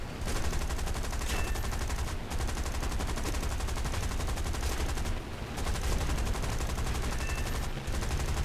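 Twin machine guns of a Hurricane Mk IV firing in War Thunder, a rapid steady rattle held for long stretches with brief breaks, over the constant drone of the aircraft engine.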